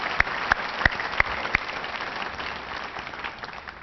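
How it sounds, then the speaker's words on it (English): Audience applause for an honored guest at a Navy-linked awards ceremony in Atlanta: a steady wash of many hands clapping, with a few loud close claps standing out early, then continuing evenly with no voices. "May we have a big round of applause for this honored guest"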